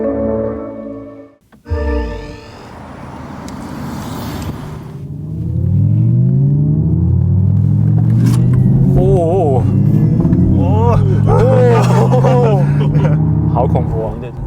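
A Xiaomi SU7 electric car drives and accelerates, playing its synthesized drive sound as a smooth rising and falling tonal sweep over a low rumble. It grows steadily louder and fills most of the stretch, with people talking over it.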